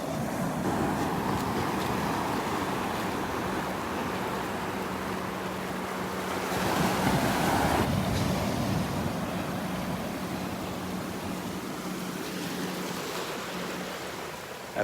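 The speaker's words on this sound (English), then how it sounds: "Look at the waves." Ocean waves breaking on the beach at Delnor-Wiggins on a morning walk, a continuous broad wash of surf that swells louder midway as a wave crashes, then settles back into a steady roar.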